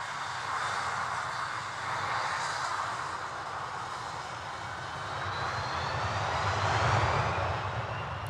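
Jet airliner engines roar and whine steadily at high power during takeoff run-up, swelling louder in slow waves, with no voices.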